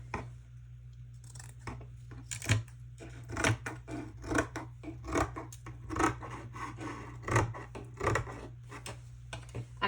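Scissors snipping through material during a messy jelly printing session, a series of sharp, close cuts and rubbing scrapes in an uneven rhythm over a steady low hum, with no talking.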